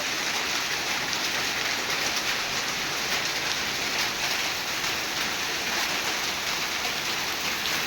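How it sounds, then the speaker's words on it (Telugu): Dense, steady patter of hailstones striking the ground and road in front of a house, a continuous hissing clatter with no voices, loud and close throughout. "మా ఇంటి ముందు పూల వర్షం పడ్డట్టు పడుతున్నాయి రాళ్ళు"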